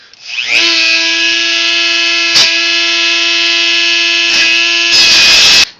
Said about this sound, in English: Now we're going to cut the chain off with a Dremel.